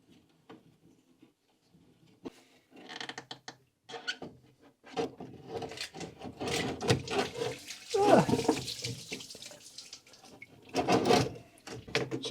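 Coolant drains out of a radiator removed from a Princess 2200 HLS, sputtering and splashing in uneven gushes that build from faint dribbles into louder pouring, with no talk.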